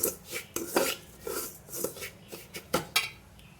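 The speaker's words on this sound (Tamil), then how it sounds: "ரெண்டு நிமிஷம் நெய்யில் நல்லா வதக்கிடும்." Semolina being sautéed in ghee in a pot for wedding-style rava payasam, heard as a series of short scraping and clinking stirs of a spoon against the pot, moderately close with small pauses between strokes.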